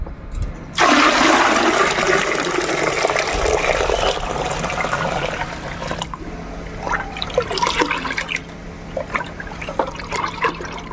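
Water being poured and mixed in to dilute plant fertiliser, a loud rushing gush that tapers into trickles, drips and sloshing splashes.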